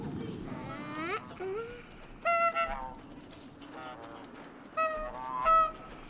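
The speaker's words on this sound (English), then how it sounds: "maybe this is the trail to the goose" Honks from a cartoon goose in the video game Knights & Bikes ring out in several clear, fairly loud calls spread across the moment, set over a soft background of game music.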